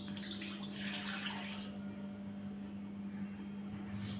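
Steady running water pours into a pot of rice flour for kozhukattai, a continuous splashing stream with a low hum underneath.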